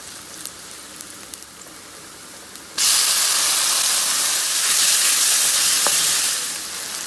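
Chopped garlic and ginger hit hot oil for a kaddu bharta, bursting into a loud, sudden sizzle after a quiet start, then a steady spattering hiss that swells briefly before easing slightly.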